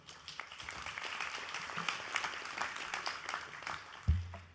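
Convention attendees applaud in a steady, moderately loud burst of clapping that fills the hall for several seconds, ending with a low thump.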